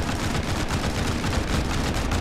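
Sustained bursts of gunfire aimed at an anti-aircraft gun in the World War II shooter Heroes and Generals, dense overlapping shots and rattling fire throughout, loud and continuous with no talk.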